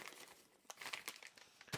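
Scissors crunch and crinkle through stiff plastic in a few uneven snips, close up and fairly quiet.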